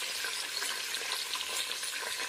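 Onions sizzle steadily as they fry in a pan for a village-style biryani, a dense, continuous crackle close by with no voices.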